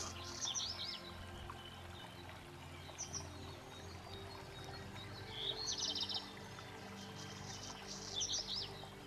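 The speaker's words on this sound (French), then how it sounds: "Écoutez les murmures, les chuchotements, les bourdonnements de l'eau qui cascade, glisse." A faint, continuous wash of river water cascading and murmuring fills the background while birds chirp in short bursts now and then.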